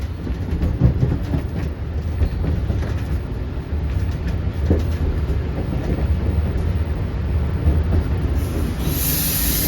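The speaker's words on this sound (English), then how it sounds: "which is this train that we're on right now" A Long Island Rail Road commuter train rolls steadily along the tracks with a constant low rumble and rattle, heard from inside a car, ending in a brief high hiss.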